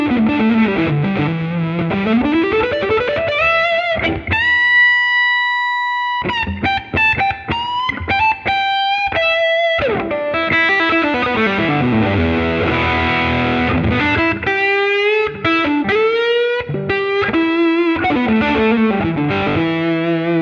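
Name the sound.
electric guitar thick lead tone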